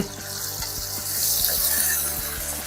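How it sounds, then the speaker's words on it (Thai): Pork loin stir-frying with garlic in a pan sizzles steadily and close, with a broad hiss and irregular stirring clatter, loud and continuous with no talk. "เอาหมูสามสันเอาลงไปผัดครับ"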